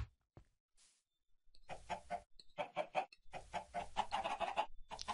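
Video game chickens cluck in a map constructor, a few brief clicks then repeated rhythmic clucking phrases in bursts, clear and close with no talk.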